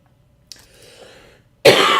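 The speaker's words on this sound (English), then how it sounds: "I've been coughing like this for like almost 2 weeks." A man coughing hard and chesty, having had a lingering cough for about two weeks; a faint rough throat sound leads into a sudden loud burst of coughing close to the mic at the end.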